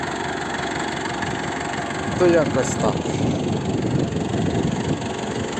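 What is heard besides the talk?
tractor engine running while harrowing sunflower field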